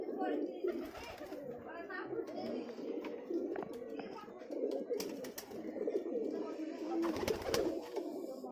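Rajshahi Giribaz pigeons coo continuously close by, overlapping low rolling calls in a dense flock murmur, with occasional sharp clicks and wing or cage noises and a faint voice in the background.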